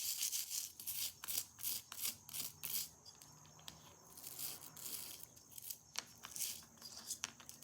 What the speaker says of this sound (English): we're going to use the nylon brush out of the kit. Just going to clean all the crap off these things